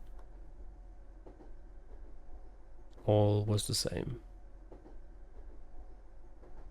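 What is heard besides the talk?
train running, from the video game Raging Loop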